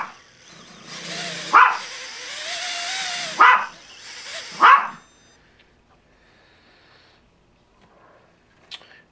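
A pet dog barks three times in close succession beside a Makerfire Armor 90 micro drone whose prop won't spin up, loud and near, with a faint whine running beneath the first barks before the scene goes quiet.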